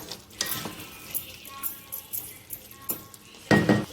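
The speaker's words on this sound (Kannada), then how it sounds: "ಮಸಾಲೆ ಸೈಡಿಗೆ ಎಣ್ಣೆ ಬಿಡುವ ತನಕ ಅದನ್ನು ಫ್ರೈ ಮಾಡ್ಕೊಳ್ಳೋಣ" Chicken ghee roast masala fries in ghee in a pan, Karavali style, giving a soft steady sizzle with intermittent stirring scrapes and a louder clatter of utensils near the end.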